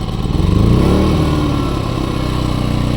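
An AL-KO 2000i inverter petrol generator idling with no load, a steady, fairly loud engine drone with a regular throb that holds an even pitch throughout, with no voices over it.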